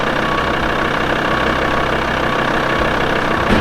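A camper van engine idles steadily with a loud, continuous low rumble and a faint, uneven knock underneath, close to the listener, with no talking.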